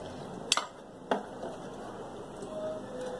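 A spoon scrapes and clinks in a pot of milk, sugar and custard mix on a stove, with two sharp knocks early and softer stirring sounds after, close and fairly quiet.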